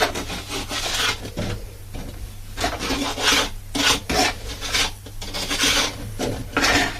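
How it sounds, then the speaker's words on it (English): A steel hawk-style pointing trowel scrapes and pushes mortar against brickwork into a cavity, giving a close, gritty rasping in repeated strokes, with no talk. "Push the hook against the brickwork, taking the trowel and material,"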